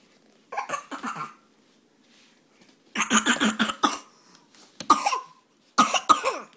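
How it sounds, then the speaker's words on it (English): Several bursts of coughing in clusters separated by pauses, close and fairly loud, with a couple of sharp single coughs at the end. "You start laughing and make yourself cough."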